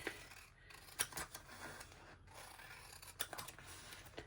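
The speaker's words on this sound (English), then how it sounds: "I don't mind cutting paper with them" Large scissors snip through paper for a collage gluebook with a series of soft, close, scraping cuts, very quiet and without speech.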